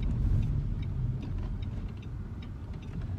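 A car engine hums low and steady from inside the cabin as the car pulls away on a driving test route in Tallaght, a smooth rumble with faint ticking above it and no talk.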